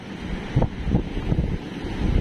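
Big waves surge and strong wind buffets the microphone on the coast at Dinahican, Infanta, Quezon during Super Typhoon Pepito, a rough roaring rumble with repeated low thuds of surf, no voices.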